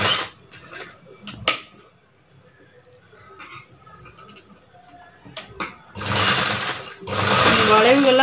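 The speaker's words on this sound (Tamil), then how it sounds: "அதுக்கு மேலே ஒரு கிராஸ் பீஸ் வெட்டி நம்ம இப்படி தச்சிட்டே வந்துடுவோம்" A sewing machine stitches a bias-cut cross piece over piping on a blouse neckline. Quieter handling and a voice come first, then two loud, close, steady runs of stitching near the end.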